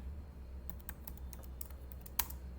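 Keys on a computer keyboard are tapped in a short, quick run of light clicks, close and fairly quiet over a low steady hum, with one sharper keystroke near the end and no speech.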